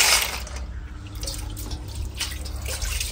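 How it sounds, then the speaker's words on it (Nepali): Ghungi snails being washed in water make steady splashing, dripping and sloshing up close, continuous and fairly loud, with no talking. "यो घोङ्गीलाई त साफ गर्दा नुहाइदिँदा पानी नै खत्तम हुन्छ"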